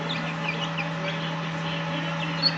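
Boston Roundhead chickens, green-legged birds in a backyard coop, cluck softly and steadily at close range over a constant low hum, with one slightly louder call near the end.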